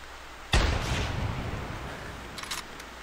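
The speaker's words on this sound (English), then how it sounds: "I think I'm going to take the shot, so we'll see how this goes." A single loud rifle shot fired at an ibex on a mountainside in the hunting game The Hunter on PC, a sharp crack with a long rumbling decay and no talking.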